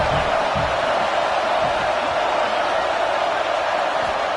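A stadium crowd in the College Football 26 video game gives off a steady, dense roar of cheering. The noise holds even and loud throughout with no break.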